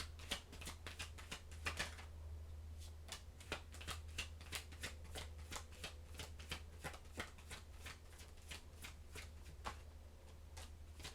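Tarot cards are shuffled close up and quietly, in a long run of quick papery riffles and soft slaps at an uneven rhythm over a faint low background hum.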